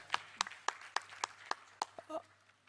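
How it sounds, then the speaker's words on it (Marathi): An audience at a poetry gathering claps in a sparse, even rhythm of about nine distinct claps. The applause is thin and moderately distant, with a low hum underneath. "त्यांच्यासाठी एकदा जोरदार आपण टाळ्या."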